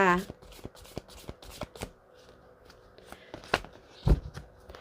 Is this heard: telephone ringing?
no